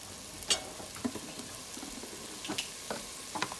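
Chickpeas and kale fry quietly in a pan as a utensil stirs them, giving a faint sizzle broken by a few light scraping clicks.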